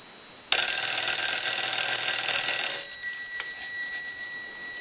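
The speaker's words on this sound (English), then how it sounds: "we'll ring the telephone" Bell of a Western Electric 302 metal body telephone rings close and loud in a single sustained burst of about two seconds, then cuts off, leaving a faint steady tone.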